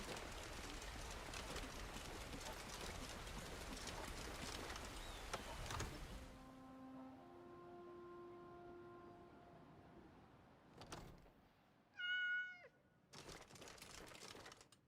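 A cat follower in heavily modded Skyrim gives a short meow near the end, following a stretch of dense game noise and a sustained tonal ambience, with other brief game sounds nearby.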